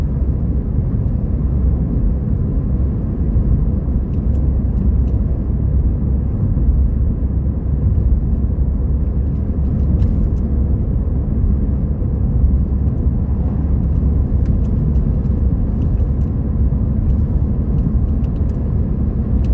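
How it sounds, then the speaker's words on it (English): A car on a forest road through the South Dakota badlands, heard as a steady, loud low rumble of engine and tyres that holds for the whole stretch with no one speaking. "Oh, here's a car."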